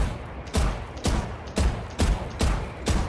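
Gunfire in a first-person shooter video game: six evenly spaced, punchy shots about half a second apart, loud and close, with no talk over them.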